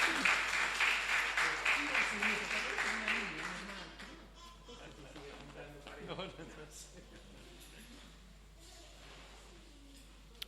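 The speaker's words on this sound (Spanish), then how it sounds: "Recibimos con este fuerte aplauso a un amigo de la casa" Church audience clapping to welcome a guest at a Bible class, a dense burst of applause that fades over a few seconds, then a voice talking.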